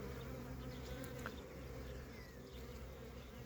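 Honeybees buzz around hives in early spring, a faint, steady drone of many insects with occasional louder passes by individual bees, continuous and with no talk.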